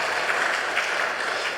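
A church congregation at a Sunday worship service applauds to welcome a visiting pastor, with a dense, even wash of many hands clapping at once. It carries on steadily without pause.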